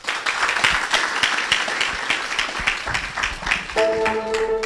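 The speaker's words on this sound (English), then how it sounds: "A round of applause." Applause from the audience at the Ashesi City Dialogue, a steady patter of many hands clapping throughout, joined near the end by a sustained musical tone.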